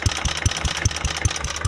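A vintage Ransomes Marquis lawn mower engine idles steadily nearby, giving off an even, regular putt-putt beat with a fairly loud low thump on each firing.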